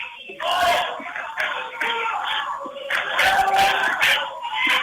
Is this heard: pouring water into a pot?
no